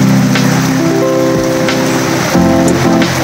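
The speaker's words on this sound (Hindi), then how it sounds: "हैदराबाद में बारिश से सैलाब आ चुका है मंडिया में।" Heavy rain pours down steadily in a market area of Abbottabad during flooding, a loud, close wash of drops hammering surfaces, with a low hum running underneath and no voices.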